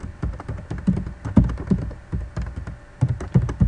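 Quick, irregular clicks of keys being typed on a computer keyboard, close and clear, in short bursts with small pauses, no voice.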